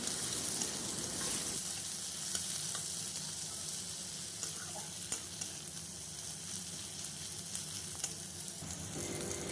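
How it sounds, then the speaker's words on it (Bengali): Chopped onion fries in a pan and is stirred around for a Bengali banana-flower and shrimp dish, a steady close sizzle with occasional light scrapes, moderately quiet and unbroken. "পেঁয়াজটা দিয়ে আমি এবার একটু নেড়ে চেড়ে ভালোভাবে ভেজে নেব"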